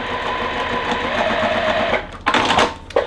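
A sewing machine runs steadily for about two seconds, putting a few stitches into a quilt block; it stops, then a couple of short bursts of handling and rustling noise follow.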